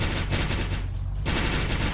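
Gunfire in a helicopter rescue video game: dense, continuous rattling bursts of automatic fire fill the clip, briefly dipping in the middle before resuming, loud and close.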